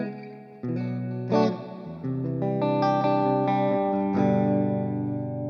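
Clean guitar through an Orange-modelled clean amp in AmpliTube 5 with reverb, with single notes and chords ringing out in a short phrase and a reverb tail after each strike.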